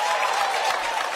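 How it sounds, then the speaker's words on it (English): An audience at a congressional debate applauds in a dense, steady patter of clapping that fills the whole moment without pause. "Thank you, audience. Let's hold your applause."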